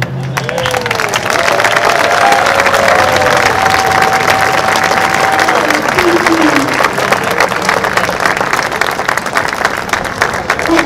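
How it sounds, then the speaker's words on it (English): Sustained loud applause from a crowded audience at a fitness fashion show, dense steady clapping with cheering and murmured voices throughout. "Everybody's clapping?"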